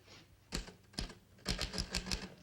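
Keys strike a manual typewriter in close, crisp clacks: two single hits, then a quick run of rapid strokes in an otherwise quiet room.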